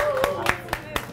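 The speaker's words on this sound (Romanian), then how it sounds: "Merită aplauze, da?" Four sharp hand claps at a steady beat ring out close by during a raw vegan cooking workshop, over a faint hum of the room.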